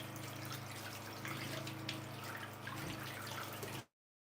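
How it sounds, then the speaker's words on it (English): Water running steadily from a kitchen sink tap, a faint continuous stream that stops abruptly near the end. "I guess I'm going to have to keep hearing that water tap"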